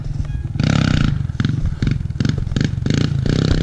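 Dirt bikes drift across a snowy lawn, engines roaring loud and close in repeated revving bursts with short gaps between, a rough rising and falling engine snarl.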